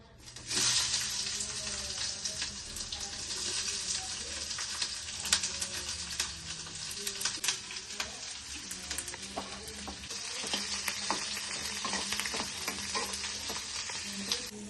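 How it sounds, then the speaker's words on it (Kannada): Onion and capsicum frying in a pan as pizza toppings, a steady close sizzle with frequent scraping stirs and clacks throughout, no talking. "ನಾನು ಆನಿಯನ್ ಮತ್ತೆ ಕ್ಯಾಪ್ಸಿಕಮ್ ಒಂದ್ಸಲ ಫ್ರೈ ಮಾಡ್ಕೊಂತೀನಿ"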